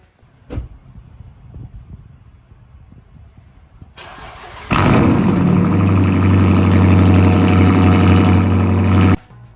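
A car engine cranks briefly, then catches and settles into a loud, steady idle close by for several seconds before cutting off abruptly, with a single sharp knock heard earlier.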